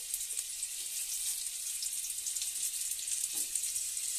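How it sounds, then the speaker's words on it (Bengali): Rounds of snake gourd frying one by one in oil in a wok over a gas flame, producing a soft continuous crackling sizzle with a few faint clicks, fairly quiet and without talk. "এখানে গ্যাস জেলে কড়াই বসিয়ে দিয়েছি তেল দিয়ে। তো একটা একটা করে চিচিঙ্গে গোলগুলোকে বসিয়ে দিচ্ছি ধারে।"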